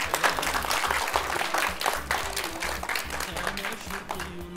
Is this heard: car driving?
no